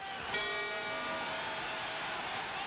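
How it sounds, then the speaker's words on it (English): A boxing ring bell at a Sonny Liston versus Cassius Clay bout, one clear metallic strike that rings on with a sustained, slowly fading tone. "And when that bell rings, Ali has survived the greatest single crisis in his life."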